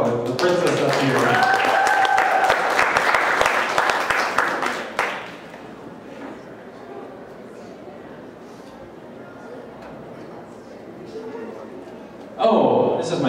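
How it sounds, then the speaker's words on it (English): Audience applause at a convention improv comedy show, a loud burst of clapping and cheering for about five seconds that drops away to quiet room murmur, then resumes briefly at the end. "Give her a round of applause for this back row of the princess up here"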